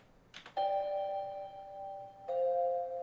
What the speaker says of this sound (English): get more crunch, more bell sound